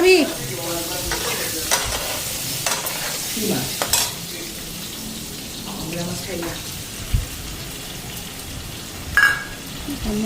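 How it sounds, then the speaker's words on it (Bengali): Fish frying in a pan gives a steady sizzle broken by stirring scrapes and clatters, with a brief voice-like sound near the start and a short sharp squeak near the end. "মাছ ভাজা"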